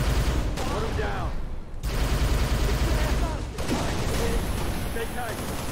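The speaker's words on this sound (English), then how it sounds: "I'm under fire." Sustained gunfire in the video game Halo: Reach, continuous bursts of rapid shooting at close range with a brief lull midway, dense and loud throughout.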